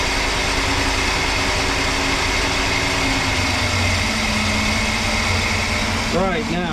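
A Mopar 383 V8 with a four-barrel carburetor idles at close range in a steady, even drone that smooths out, with a brief rise near the end.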